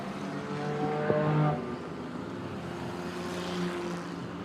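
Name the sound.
speedway race cars driving around the track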